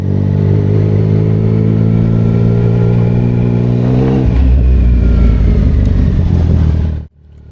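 A motorcycle engine idles loudly and close at a Spanish ferry port, then revs up with a deep throaty rise around the midpoint before cutting off abruptly.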